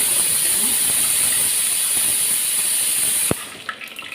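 Fenugreek seeds sizzle in hot oil after mustard seeds while tempering for sambar, a loud steady hiss that drops off abruptly near the end, leaving faint crackles.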